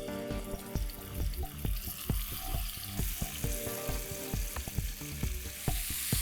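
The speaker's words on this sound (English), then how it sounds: "Once the bottom of the pan kind of begins to sizzle, we'd slide in the pieces of marinated fish." Pieces of marinated mackerel fry in hot oil in a pan for a fish korma, giving a close, steady sizzle broken by crackling pops and bumps that recur regularly, with no talking.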